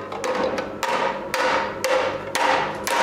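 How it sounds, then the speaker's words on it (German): Hammer blows ring out on hot sheet metal being forged into a cowbell, in a steady rhythm, about one sharp clang every half second, close and loud. "Dann schwingt er wieder den Hammer."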